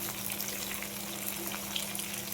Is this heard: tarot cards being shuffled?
no